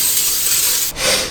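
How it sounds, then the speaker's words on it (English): Olive oil spray misting onto a baking dish: a loud, continuous airy hiss for nearly a second, a brief break, then a second short burst of spray, close up with no talk. "I'm just gonna give it a little spray"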